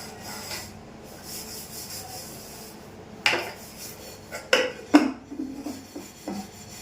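Dishes, pots and utensils are washed in a home kitchen, with soft rubbing and scrubbing followed by several sharp clinks and clatters of metal vessels knocking together near the end.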